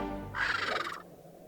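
An angry eagle parent swoops in with a loud, harsh screeching call lasting about half a second in Sly 2, rising over game music and ending abruptly.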